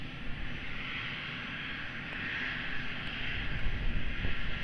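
An airplane takes off from runway 02 at Lisbon Airport, its steady broadband engine roar swelling louder toward the end as it accelerates, with no voices.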